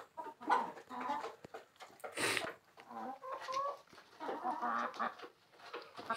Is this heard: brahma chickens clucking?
yes